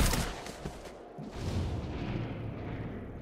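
Breach-shot gunfire from the XCOM: Chimera Squad video game comes as a muffled volley of booming shots, with one heavy blast followed by rumbling, echoing reports that fade out.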